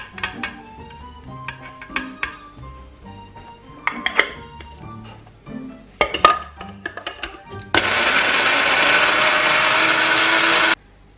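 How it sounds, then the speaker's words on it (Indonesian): An electric blender grinds garlic-and-shallot style spice paste for sweet soy fried rice, running loud and steady for about three seconds after a stretch of clinking dishes and utensils being handled nearby. "Sekarang kita blender aja bumbunya"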